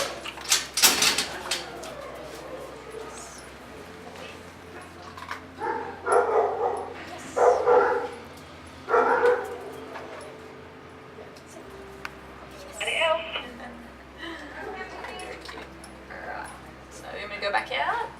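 Dog in an animal shelter pen barks in short bursts and whimpers between them, fairly close, with a person talking over and between the barks and a door moving.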